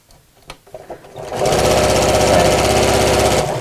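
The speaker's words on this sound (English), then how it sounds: "I'm just sewing right within the seam allowance there, so it's purely to hold that piece in place" After a few soft handling taps, a sewing machine starts up and runs steadily, loud and close, stitching a drawstring beach bag within the seam allowance.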